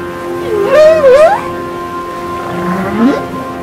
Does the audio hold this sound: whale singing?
yes